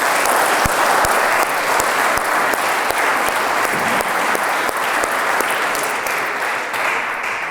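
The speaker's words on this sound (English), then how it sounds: "Please give a round of applause" Loud, sustained applause from a large audience at a publication event fills the room without pause, steady clapping throughout.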